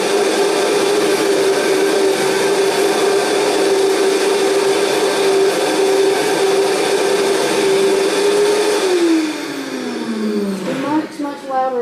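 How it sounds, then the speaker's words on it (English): A powerful kitchen blender whirs loudly and steadily while blending garbanzo beans and water, its motor pitch holding constant before winding down and stopping near the end. "And we're just going to blend this up. It's a very powerful blender"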